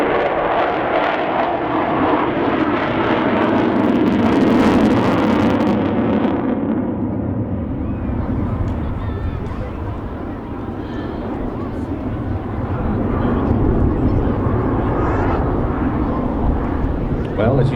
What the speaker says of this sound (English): as you see, not the quietest of aircraft, but certainly one of the most impressive